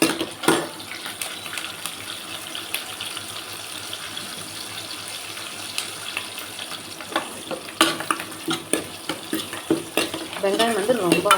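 Onions and curry leaves fry in a pan with steady soft sizzling, punctuated by sharp stirring and scraping clicks that grow busier toward the end.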